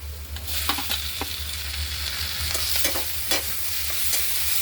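Tomatoes hit a hot pan already holding onion and capsicum for pav bhaji, giving a steady close sizzle broken by scraping stirs.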